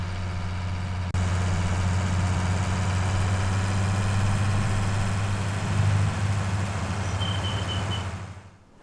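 A Ford tractor engine in a survival roleplay video game idles steadily at close range with a deep, even drone that briefly swells near the end before the sound fades out.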